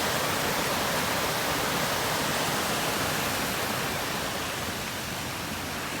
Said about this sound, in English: Raging water down there.